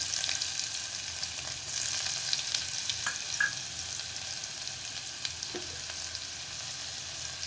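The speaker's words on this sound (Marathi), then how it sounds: "आता मी हिंग घालत आहे बारीक चिरून घेतलेला कांदा घालत आहे" Finely chopped onion with asafoetida fries in hot oil, giving a continuous even sizzle close by, with a few faint clinks and scrapes of a stirring spoon against the pan.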